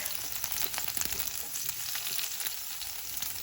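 Garlic sizzles in hot oil in a pan over a high flame for Veg Hakka noodles, a steady close frying hiss with faint crackles and no voices.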